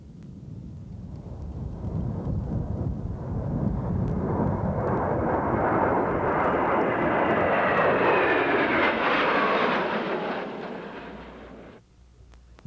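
A Tornado F-3 interceptor jet in a flight-combat game roars past, its engine noise swelling into a loud broad rumble and rising whine before fading and cutting off, with no voices.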